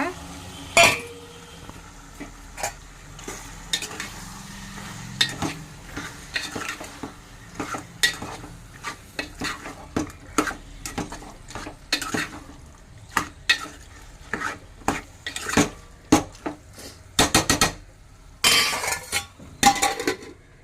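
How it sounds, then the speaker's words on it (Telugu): Raw washed chicken pieces tipped into a frying pan for a chicken curry and stirred, with a series of sharp clinks and scrapes of a spoon against the pan over a faint sizzle. "ఇంక ఇప్పుడైతే కడిగి పెట్టుకున్న చికెన్ అయితే వేసేసుకుంటున్నాను"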